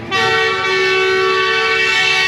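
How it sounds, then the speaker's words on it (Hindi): The Ravi Express train, at a station on the run from Lahore to Nankana, sounds one loud, sustained horn blast that holds steady and close for over two seconds. "हॉर्न दे दिया है गाड़ी ने"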